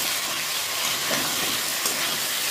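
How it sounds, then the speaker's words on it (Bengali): Potatoes sautéing in a pan give a steady, dense sizzle with faint stirring scrapes. The frying sounds close and even and runs on without a pause, with no talking. "আলুটা কষানো হচ্ছে।"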